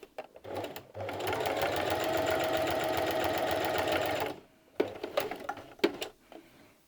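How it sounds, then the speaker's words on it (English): A sewing machine chain-pieces patchwork fabric at a stitch length of 2, running in one steady, close mechanical whir for about three seconds. Short clicks and handling of the fabric come before and after the run. "Now I am chain piecing these."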